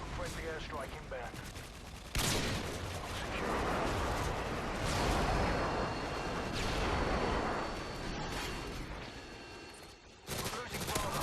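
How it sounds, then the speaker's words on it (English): Airstrike explosions hit during a Domination match on the Scrapyard map in Modern Warfare 2: several heavy, booming blasts roll one after another, loud and sustained, over a dense battle mix. "Friendly airstrike inbound."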